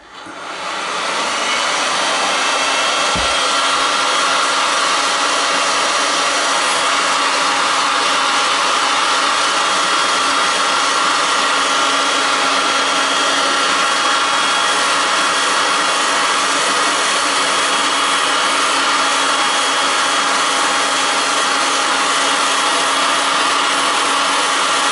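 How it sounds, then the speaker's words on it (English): A heat gun blasting hot air onto CPUs to loosen their gold-bearing parts for scraping, a loud, steady roaring hiss that starts abruptly and holds unbroken at close range. "So all I'm doing is heating this with the gun until it's ready to scrape off."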